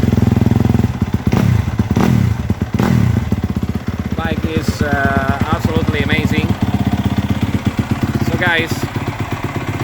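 A 2021 Yamaha YZF 250 Monster Energy motorcycle engine runs loudly up close with a brief rise in revs, while someone talks over the steady engine throughout.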